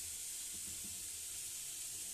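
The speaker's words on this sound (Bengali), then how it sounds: "বিনসগুলো এর সঙ্গে একসঙ্গে ভালো করে ভেজে নিচ্ছি" Green beans frying in a pan with potato, beetroot, carrot and chopped onion for veg chowmein, giving a faint, steady sizzle and hiss throughout with no talking.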